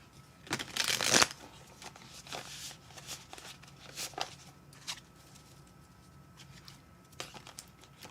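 Tarot cards are shuffled by hand in quiet, soft riffling bursts. A longer, louder shuffle comes early, followed by scattered lighter flicks and taps.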